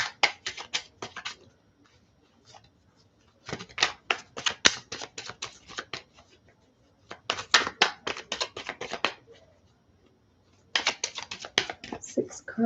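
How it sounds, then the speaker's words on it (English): A deck of tarot cards is shuffled in four separate bursts of sharp, rapid papery clicks, each a couple of seconds long, with near silence between them. "I need 6 cards for Leo, please, for March"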